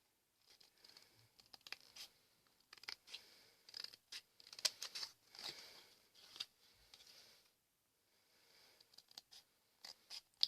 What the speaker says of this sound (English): Now with our scissors we will cut the triangle.